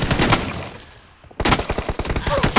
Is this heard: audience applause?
no